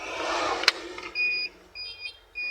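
Switching on the ignition in a 2002-2007 Mercedes-Benz Sprinter van brings a sharp click followed by a few short electronic beeps, faint and alone in a quiet cab.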